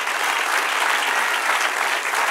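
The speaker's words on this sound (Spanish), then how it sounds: "Denle un aplauso al Señor." A church congregation claps in steady, dense applause that fills the room evenly and holds without any break.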